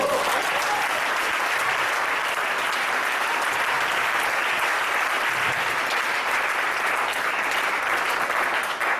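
Sustained applause from a church congregation during a French-language theology sermon, dense steady clapping at even loudness across the whole stretch, with no talking over it.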